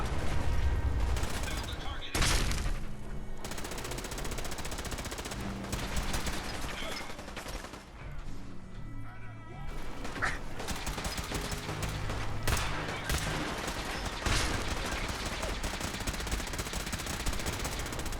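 Dense video game gunfire and explosive launcher fire in a wasteland survival battle, sustained loud rattling bursts and booms throughout, with a voice speaking over parts of it.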